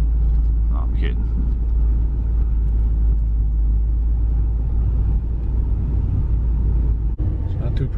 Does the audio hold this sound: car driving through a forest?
yes